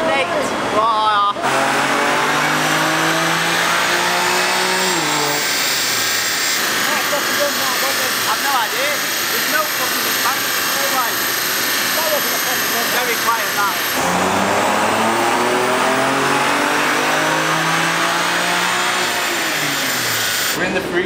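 BMW M2 with aftermarket parts revving hard on a dyno run, a loud, continuous engine roar climbing through rising pulls, with a sharp shift-like drop near five seconds and again near fourteen, while people talk over it.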